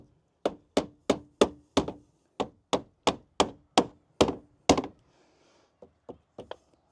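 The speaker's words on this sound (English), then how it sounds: "And then I just use a hammer, light taps." A hammer lightly tapping plastic mud flap plugs into a Ford Ranger Raptor fender: about a dozen sharp, evenly spaced close knocks, a short pause, then three softer taps.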